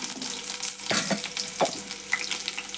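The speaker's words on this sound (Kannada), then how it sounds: "ಸಾಸಿ ಚಟಪಟಂದವು ಕರಿಬೇವು ಮೆಣಸಿನ್ಕಾಯಿ ಹಾಕೋತೀನಿ ರೀ" Mustard seeds, curry leaves and dried red chillies crackle in hot tempering oil for toor dal. The close, steady sizzle is broken by several sharp spitting pops, with no talking.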